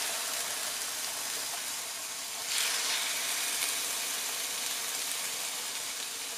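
Chicken breast fillets frying in smoking-hot oil on a griddle, a steady broad hiss that swells louder as a fillet hits the surface and then holds constant, with no talking.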